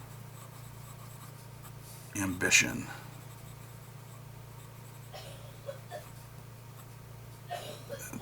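A Faber-Castell Ambition fountain pen with a medium steel nib writes on paper, giving faint, soft scratching strokes that are loudest in a short burst, with a brief spoken word.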